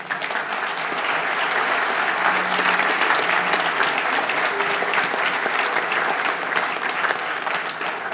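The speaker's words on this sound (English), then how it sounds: "One more round of applause to our candidates" Audience at a 2018 Kansas Republican gubernatorial primary debate in Wichita applauds the candidates, a steady, dense wash of clapping from a large crowd that holds evenly loud throughout.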